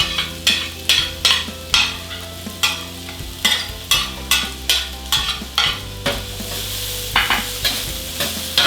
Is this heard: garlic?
yes